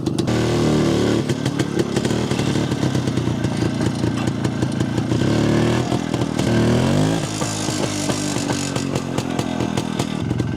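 A repaired Jawa 250 motorcycle engine idles steadily and loudly at close range, its rough, buzzy putter holding a fairly high, even pace throughout with no talking.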